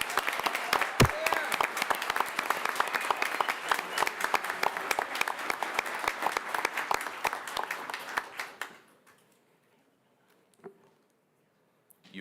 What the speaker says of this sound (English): Please give Legend a round of applause.